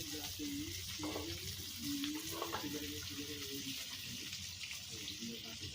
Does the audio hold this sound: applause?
no